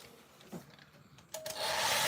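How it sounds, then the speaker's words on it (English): A hairdryer is switched on to dry acrylic paint, preceded by a couple of soft handling knocks, then a sudden steady airy whoosh with a faint motor whine that keeps running at the end. "I'm going to get the hairdryer on it just to dry it even quicker."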